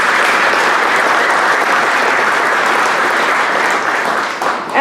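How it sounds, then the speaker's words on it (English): Sustained audience applause at an evening agriculture industry reception, dense and loud hand clapping from a crowd holding steady for several seconds before tapering slightly at the end. "Another round of applause, please."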